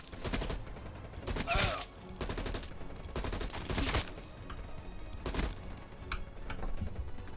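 Heavy cannon fire from a German 88 flak gun in a World War II Call of Duty battle, several booming blasts at irregular intervals over a constant rumble of gunfire, with no talk.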